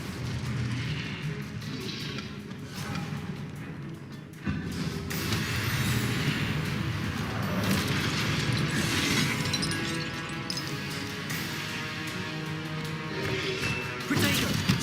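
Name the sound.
Confringo spell blasts in Hogwarts Legacy video game combat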